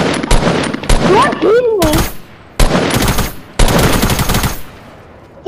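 Gunfire in the battle royale game Fortnite, loud rapid bursts of shots in several volleys, close and punchy, with a person speaking between them.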